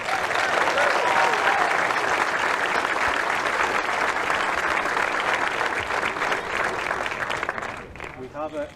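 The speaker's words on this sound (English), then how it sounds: "So just a big cheer for both teams." Sustained crowd applause with cheers at a Kildare versus Armagh Celtic Challenge final, steady and dense for most of the stretch, then thinning near the end as a voice begins to speak.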